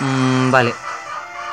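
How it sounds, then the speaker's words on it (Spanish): A rooster crows loudly and close, one rising, harmonic call that cuts off about halfway through, followed by quieter background, with a brief spoken word at the start. "Estúpidos gallos, no se callan."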